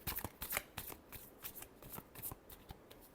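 Tarot cards being shuffled in quick riffling bursts, crisp papery flutters repeating at an uneven rhythm, close and fairly quiet, with no talking.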